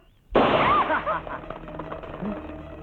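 A single loud gunshot-like bang rings out in a comedy film scene, followed by a noisy tail of ringing, shouting and commotion that fades over a few seconds.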